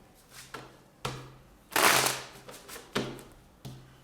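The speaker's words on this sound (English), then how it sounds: "Let's get one last shuffle." Tarot cards being shuffled by hand in a quiet room, a series of separate soft riffling bursts, the longest and loudest in the middle, with short pauses between them.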